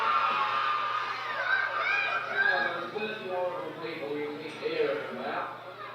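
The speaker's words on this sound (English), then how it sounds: "let's have a big cheer for the Sex Pistols" A crowd at a 1977 Sex Pistols Christmas benefit gig for firemen in Huddersfield cheers, whoops and shouts in a steady, lively roar of overlapping voices, some of them high and childlike, heard from a moderate distance.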